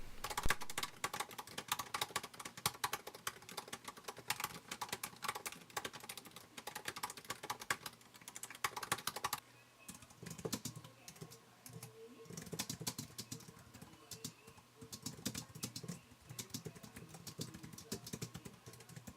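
Rapid typing on an Apple keyboard clatters continuously, close and fairly quiet, with uneven bursts of keystrokes and short pauses.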